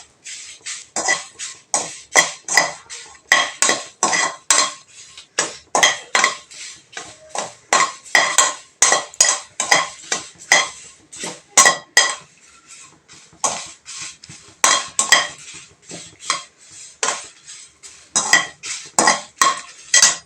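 Dried red chillies and curry leaves roasting in a pan on a low flame are stirred with a metal spoon, giving a steady run of close, sharp scraping and clinking strokes against the pan.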